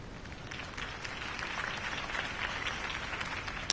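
Steady crowd applause in the video game Batman: The Telltale Series, a dense continuous patter of clapping that holds at an even level throughout, with no voices standing out.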